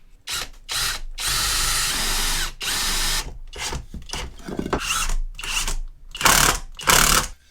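A power drill drives screws into parts of a Harley-Davidson Sport Glide fairing wall mount, giving several short, close whirring bursts separated by brief pauses, with no talk.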